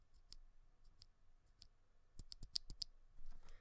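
Mechanical keyboard switch fitted with an Invyr UHMWPE linear stem, pressed close to the mic, giving faint, sparse clicks at first and then a quicker run of sharper, crisp clacks.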